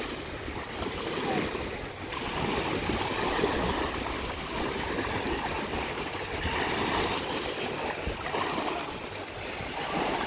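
Waves break on the shore at Myrodato beach, a continuous broad wash of surf with gentle swells, steady and fairly close with no other sounds.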